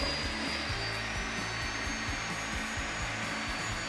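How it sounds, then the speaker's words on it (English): An electric grinder runs nearby as a continuous high-pitched whine over a dense broadband roar, steady throughout, with a faint rhythmic low thumping underneath. "Now the grinder."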